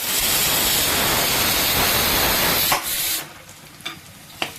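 Beef fry with crushed ginger and garlic being stirred in a pan: a steady, dense sizzle for about three seconds, then quieter frying with a few sharp scrapes of the spoon against the pan.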